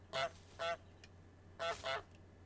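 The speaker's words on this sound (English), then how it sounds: "Press Y to honk." Goose honking in Untitled Goose Game, four clear nasal honks in two quick pairs, loud and isolated over a faint steady hum.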